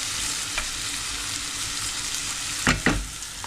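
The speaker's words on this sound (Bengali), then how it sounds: "মেরো দিয়ে কারির জন্য পেঁয়াজ রসুন পাঁচফোড়ন লবণ এগুলো দিয়ে দেখে থেকে কষিয়ে নিচ্ছি" Onion, garlic and panch phoron with salt fry in a pan for a marrow curry, giving a continuous close sizzle broken by a couple of sharp stirring scrapes near the end.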